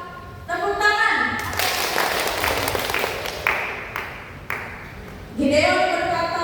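A group of people at a church elders' and deacons' training session claps together in a game, with a burst of applause lasting several seconds between stretches of someone speaking.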